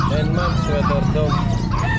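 At a Calumpit pet market, a dog, near a 3.5-month-old sweater-dog puppy, gives a run of rhythmic yips and barks over steady crowd noise as people talk nearby.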